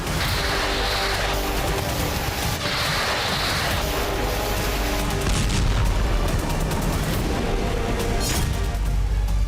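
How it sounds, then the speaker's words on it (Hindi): Missile strike explosion on a Turkish cargo ship at the port of Odesa, heard as a dense, continuous roar of blasts and rumbling with sharp cracks layered throughout, loud and sustained with no speech. "यूक्रेन के ओडेसा पोर्ट पर खड़े तुर्की के कार्गो जहाज पर मिसाइल से हमला हो गया।"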